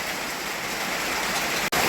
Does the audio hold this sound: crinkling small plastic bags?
no